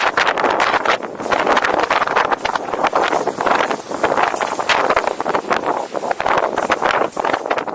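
Strong coastal wind at Dungeness buffets the microphone in loud, irregular gusts, a rough roaring rumble that rises and falls continuously with no talking.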